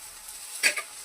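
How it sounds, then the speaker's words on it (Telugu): Mutton paya masala fries in oil with chili powder and coriander powder, giving a faint low hiss broken by a brief stir and scrape near the middle. "బాగా ఫ్రై అవ్వాలి. ఇది బాగా ఫ్రై అయ్యాక ఆయిల్ మొత్తం పైకి వస్తుంది."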